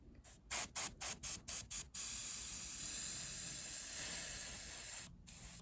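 Short bursts from an airbrush running only on residual air, with the compressor off, sputter in a quick rhythmic series while painting a Tamiya 1/32 A6M5 model kit. A longer continuous hiss of air follows, briefly cutting out near the end.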